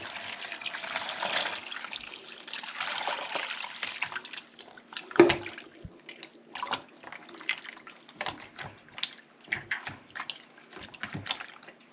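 Running water rinses homemade butter made from store-bought cream, a steady tap-like stream with trickles and splashes that shift in level, closer and louder in bursts, with no talking.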